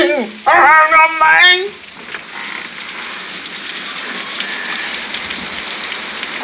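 A storm brings rain, sleet and hail pattering in a steady, crackling hiss. A brief burst of sound rises near the start before the even, sizzling downpour carries on alone.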